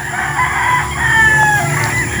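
Hens calling and a rooster crowing from a short distance on a large farm with many tethered chickens, over a steady outdoor background hum.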